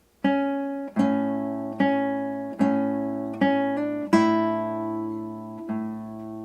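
Classical guitar plays the A-chord part of Joy to the World: seven clear plucked notes and dyads in a steady, unhurried rhythm, each ringing and decaying, close and alone.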